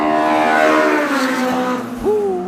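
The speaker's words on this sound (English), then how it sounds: "Honda screaming down the strip." A Honda race car screaming down a drag strip, its high-revving engine loud and close with a rising whine through the gears, heard from a nearby vantage across the track.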